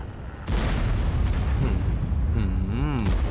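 WZ-113-GFT tank cannon fire in a video game: a single heavy boom bursts in abruptly and rumbles on with a sustained roar, followed by warbling in-game effects, with a voice nearby.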